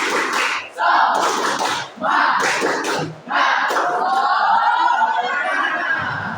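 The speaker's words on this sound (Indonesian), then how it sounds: "kita tepuk semangat dulu. Tepuk semangat" A classroom of students performs the rhythmic 'tepuk semangat' clapping chant, with loud group voices and sharp slaps coming in several bursts, then a longer shouted finish.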